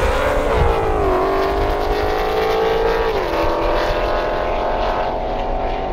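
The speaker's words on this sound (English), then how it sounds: "the Aventador wants to just rev his motor all the way through our live stream" A Lamborghini Aventador revs hard at an airstrip event, a loud, sustained high-pitched engine wail that sweeps up and drops back, steady and close with no talking.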